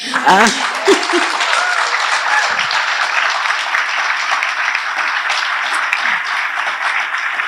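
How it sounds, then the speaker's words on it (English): Sustained audience applause at a maternal health and abortion access event, dense and steady for the whole stretch, with a few brief voices cutting through near the start. "They didn't ask for your applause, but I'm sure you want to give it to them"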